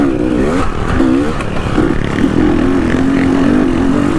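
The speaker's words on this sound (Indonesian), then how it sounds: "mesinnya agresif banget" A trail motorcycle engine revs hard at an off-road trail event, loud and close, with repeated rising throttle blips before settling into a sustained aggressive drone.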